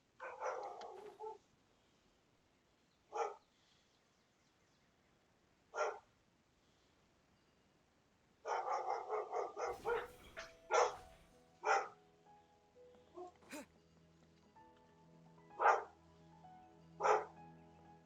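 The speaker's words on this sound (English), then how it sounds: "the dog's barking again" A dog in the game Genshin Impact barks in scattered single and clustered bursts, separated by quiet stretches, with faint background tones and a low rumble partway through.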